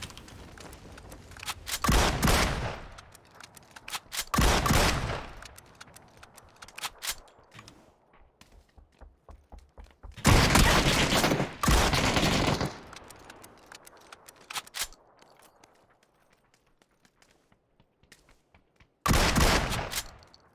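Bursts of gunfire from AWM and M4 weapons in the game PUBG, several loud, sharp volleys separated by quieter stretches with scattered single shots.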